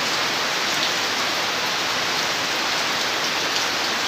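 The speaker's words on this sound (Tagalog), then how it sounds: "kita yung ulan guys, yan na. Grabe ulan." Heavy rain pours down in a steady, loud, dense hiss that fills the whole stretch without letup, with no voices over it.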